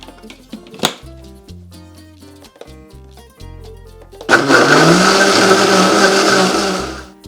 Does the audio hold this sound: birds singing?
no